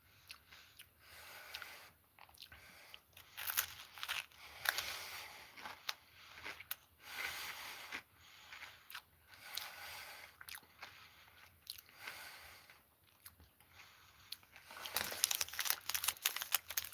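Biting and chewing a Be Ready chocolate-filled snack, with rhythmic crunchy bites and chewing sounds mixed with wrapper crinkling, close and fairly quiet, repeating throughout.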